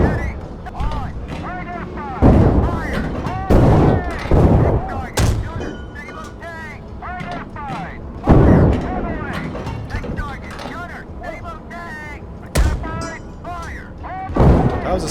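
Tank cannon fire and hits in the video game GHPC: repeated heavy booming blasts at irregular intervals, loud and close, under engine rumble and a voice talking throughout.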